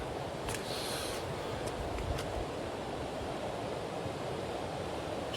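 Steady broadband rush of river water at a rope-lined crossing of the West and East Piscataquis Rivers, continuous and close, with wind buffeting the microphone and no talk.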